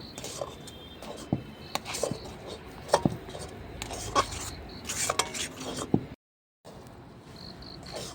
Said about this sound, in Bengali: এটা অনবরত নাড়তে হবে, নাড়া কিন্তু থামিয়ে দিলে হবে না।